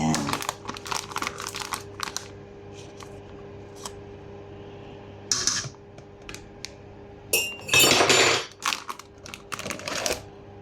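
Kangkong water spinach leaves being mixed with cornstarch in a bowl, giving intermittent crinkly rustling and light clinks with quiet gaps and a louder rustling burst near the end, under a faint steady background tone.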